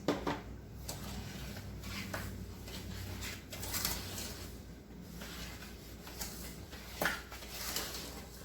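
Praline mixture for New Orleans pralines being stirred in a pot, with soft scraping and occasional spoon knocks against the sides, steady and close, no talking.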